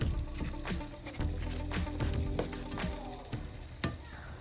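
A spoon scrapes and stirs ground beef and onion around a hot pan for taco spaghetti, with steady sizzling and frying under repeated sharp clinks and scrapes, close and fairly loud, with no talking.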